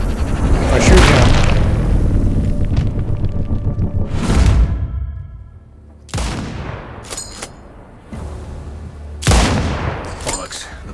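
A sniper rifle fires in Sniper Ghost Warrior Contracts 2, several loud sharp shots at intervals, each with a booming tail that rolls away over a steady in-game background.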